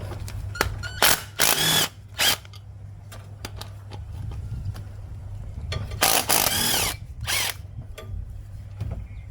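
A power tool works a 12mm bolt on a Toyota 86 ZN6 with a 2.0L FA20D engine, giving several short, loud whirring bursts and ratcheting clicks between quieter gaps.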